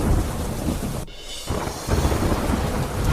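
Heavy rain pours steadily during a Gujarat monsoon downpour, with rumbling thunder, a loud continuous hiss and a brief dip in intensity partway through.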